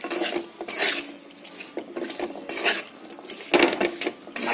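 Fish is tossed and rubbed with mustard oil in a wok, giving continuous close scraping and clattering of a utensil against the metal pan, with no voices.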